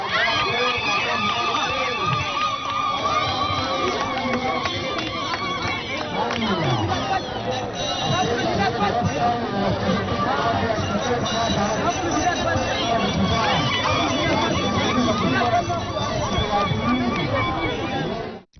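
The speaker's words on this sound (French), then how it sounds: "Sur le lieu du meeting, une foule en effervescence manifeste son soutien." A large, excited crowd at a presidential campaign rally roars and cheers continuously for the whole stretch, a dense wall of voices and shouts with no pauses.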